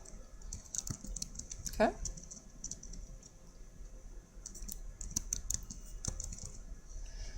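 Keys clatter steadily on a computer keyboard while a header is filled in, a soft run of close clicking taps with a brief louder knock and a short spoken word over it.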